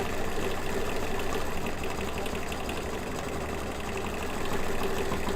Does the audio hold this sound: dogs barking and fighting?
no